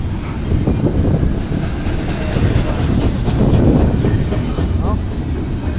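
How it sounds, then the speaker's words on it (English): A CSX freight train rolls past a crossing in Fostoria, Ohio, a loud continuous rumble and rattle of railcars with clickety-clack, close and steady throughout. "That's a big train."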